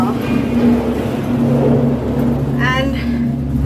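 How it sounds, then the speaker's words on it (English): A cable car ride at the Great Wall of China gives a steady low mechanical rumble and hum throughout, with a person talking close over it. "So now I'm inside the cable car."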